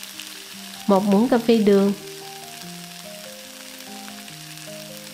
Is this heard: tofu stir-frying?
yes